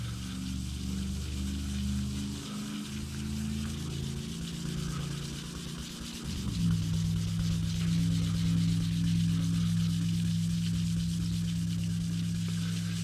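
A Suburban's paint is wet sanded with a continuous close rubbing hiss over a low steady drone, with a slight shift in the drone midway.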